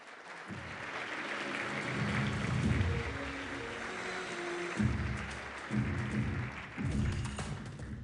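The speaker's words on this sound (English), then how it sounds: "Please, a big round of applause for FIFA President Gianni Infantino" A large audience at a Washington DC event for the 2026 World Cup match schedule applauds FIFA President Gianni Infantino, a steady dense wash of clapping with music swelling in and out underneath.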